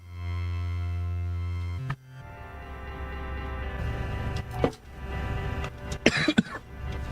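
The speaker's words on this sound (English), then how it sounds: "Cough, cough." A single short cough cuts through a steady droning hum, followed by shuffling and a few sharp clatters against background noise.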